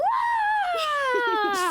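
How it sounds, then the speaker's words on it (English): A cartoon ghost in the preschool series Pip and Posy lets out a long, loud, spooky wailing scream that slides slowly downward in pitch, with a few short voiced gasps under it near the end. "spooky scream"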